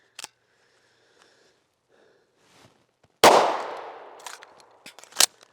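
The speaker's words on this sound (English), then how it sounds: "Let's see if that slide locks to the rear and drops again when I insert the fresh magazine." A pistol mag change: a sharp metallic click at the start, soft small handling noises, then a loud slam as the fresh magazine seats and the slide drops forward with a ringing clack, followed by a few more metallic clicks.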